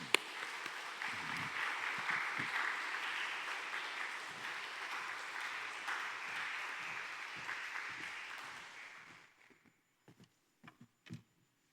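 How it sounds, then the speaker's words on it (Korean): Congregation applause welcoming a missionary at a Wednesday church worship service, a steady wash of clapping that holds for about nine seconds and then fades out, leaving a few faint scattered noises. "우리 기한 선교사님 환영하는 박수로 우리 모시도록 하겠습니다"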